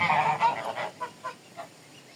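A goose gives a series of short, nasal honks, loud at first and then fading into quieter calls spaced out over a couple of seconds.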